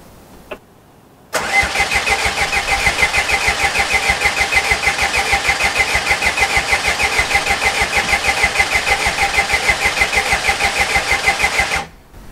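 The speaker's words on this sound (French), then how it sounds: "on va faire tourner le moteur pour voir s'il tourne correctement" A Renault Trafic 1.9 dCi diesel engine, freshly fitted with a new turbo, cranks over in a steady, loud, rhythmic chugging for about ten seconds, then cuts off abruptly.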